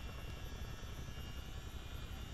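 Steady rotor and turbine drone from a Chinook CH-47 tandem-rotor helicopter in Microsoft Flight Simulator, a dense continuous whir with no talk over it.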